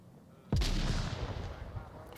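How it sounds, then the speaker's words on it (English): Frag grenades detonating in a VR military shooter game, one sudden loud blast that cuts in abruptly and leaves a long rumbling decay under steady background noise. "Frags already going out"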